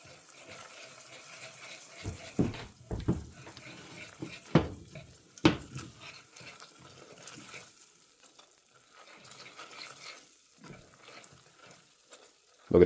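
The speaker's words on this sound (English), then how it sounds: "Add 6 tablespoons of butter to the mixture. Slowly stir that in." Butter being slowly stirred into hot caramel in a pan on the stove, giving a soft steady sizzle with a few sharp spoon-on-pan scrapes and clinks early on, then a quieter bubbling simmer.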